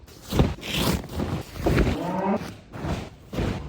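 Cattle being given boluses on a farm moo again and again, several loud, drawn-out calls close by, some overlapping, with gaps between them.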